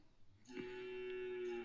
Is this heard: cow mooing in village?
yes